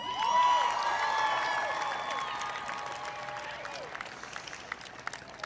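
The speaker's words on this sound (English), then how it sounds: "and yes, you may applaud" Applause rises from the audience at the 2008 CSUN Freshman Convocation, opening loud with cheers and whistles, then thinning into scattered claps that trail off.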